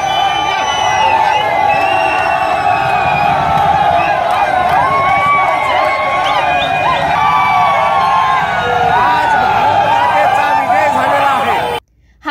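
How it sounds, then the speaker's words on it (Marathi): A street crowd of cricket fans and political supporters celebrates India's cricket victory, with dense, continuous loud cheering, shouting and chanting, voices and whoops layered throughout before it cuts off abruptly near the end. "यावेळी इंडिया इंडियाचे नारे लगावत टीम इंडियाच्या विजयाचा आनंद व्यक्त केला।"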